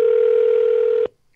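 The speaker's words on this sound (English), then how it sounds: "let's give our player a call on the phone right now" A steady telephone dial tone hums loudly for about a second while a call is placed to a game show contestant, then cuts off abruptly into near silence.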